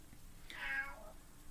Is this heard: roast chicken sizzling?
no